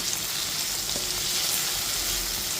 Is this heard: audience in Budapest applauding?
no